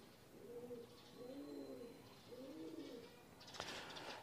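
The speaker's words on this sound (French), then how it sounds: "Est-ce que vous entendez des pigeons au-dessus de moi là?" Pigeons coo overhead, three soft rolling coos in a slow rhythm, faint and somewhat distant, followed by a brief flutter or rustle near the end.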